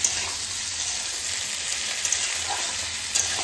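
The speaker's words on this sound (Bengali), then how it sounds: "আরেকটু ভাজা হবে" Young jackfruit frying in a pan with cumin and a splash of water, a continuous close sizzle broken by a few light scrapes of a spatula, with no voices.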